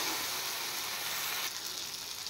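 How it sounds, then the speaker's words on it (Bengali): Fish curry masala with mustard paste sautéing in a pan gives off a steady, close, dense sizzle that runs unbroken the whole time, with no voices. "এবার সর্ষে বাটা সহ একসাথে একটু কষিয়ে নেব"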